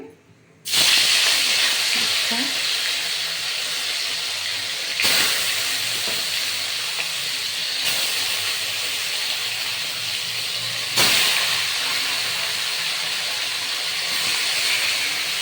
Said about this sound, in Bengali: এক পিস ভাজা হলে তারপরে আমি আর একটি উল্টে দেবো ততক্ষণ পর্যন্ত ভাজা হোক